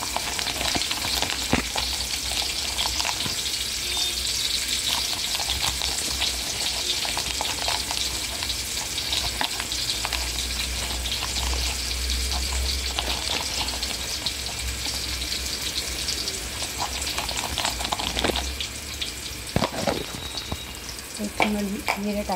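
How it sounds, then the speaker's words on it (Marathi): Chopped onion frying in oil in a pan, a dense continuous sizzle and crackle held at a steady level throughout, close by, with occasional clicks of stirring and no voices. "कांदा आणि तेल टाकलं आहे ह्याच्यामध्ये, कांदा भाजायला टाकलेला आहे।"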